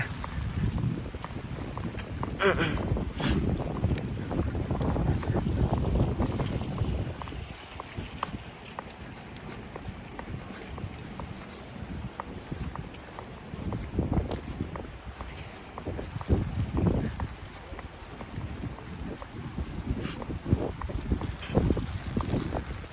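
Strong wind buffets the microphone at a driving test course in Osaka, Japan, with a continuous rumbling roar that gusts harder at times, with faint movement noises mixed in.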